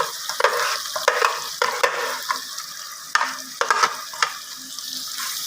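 Chicken masala paste with tomato, onion and green chili sizzles and fries in a pan while a utensil scrapes and stirs it in repeated sharp strokes, close and busy.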